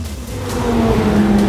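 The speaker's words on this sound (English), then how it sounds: "So that was the Aventador at Phillip Island." A Lamborghini Aventador S at Phillip Island circuit gives a loud, sustained engine drone that builds slightly in intensity over the brief moment, heard close and alone.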